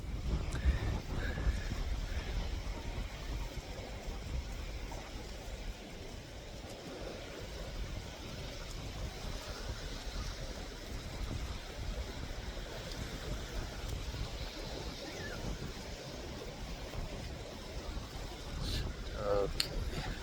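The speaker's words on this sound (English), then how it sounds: "it's very, very windy" Steady gusty wind buffets the microphone with a continuous roar, and water washes faintly in the background, with no clear talking, at a swimming spot in Cuba.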